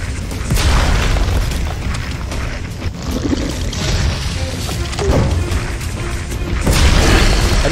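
A grenade blast in the Heaven Dust 2 video game sounds as a loud booming crash over dense rumbling game noise, with further impacts and a swell of sound near the end.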